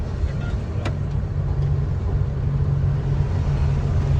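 A tipper truck loaded with sand rumbles along the road, producing a continuous loud, low engine and road drone that stays steady throughout.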